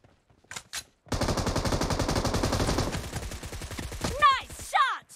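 Rapid automatic gunfire from the battle-royale game PUBG, a loud sustained burst of shots lasting a few seconds, followed by short bursts as players shout over it.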